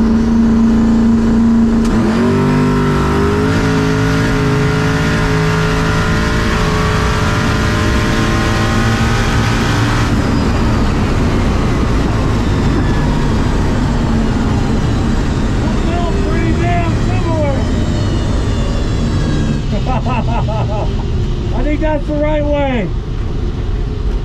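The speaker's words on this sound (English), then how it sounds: "That sounded like normal gear splits." A loud, close car engine revs hard through repeated gear changes on a 5-speed Lenco transmission. Pitch climbs and drops with each shift, then bursts of throttle blips follow toward the end.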